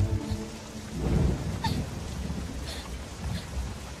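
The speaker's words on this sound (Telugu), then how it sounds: "వర్షం పడుతుంది" Steady rain falls with a low rumble of thunder in a film scene, a broad continuous wash of sound with a louder swell partway through.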